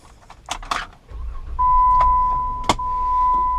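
Power windows on a lifted, fully built 2014 Jeep Wrangler whir with a steady electric motor hum for about two seconds, bracketed by sharp clicks and a brief jangle at the start, close and fairly loud inside the cab.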